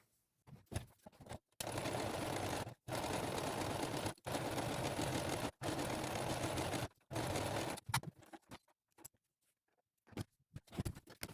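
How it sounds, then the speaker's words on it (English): A sewing machine stitches around the border of a fabric piece for a tic-tac-toe busy book, running in several steady buzzing bursts separated by short pauses and a few clicks. "I'm going to go ahead and sew around the border"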